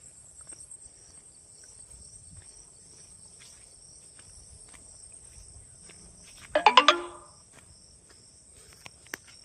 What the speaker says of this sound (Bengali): শব্দ ওই ঝিঝি পোকা ডাকার মতো একটা শব্দ শোনা যাচ্ছে হালকা।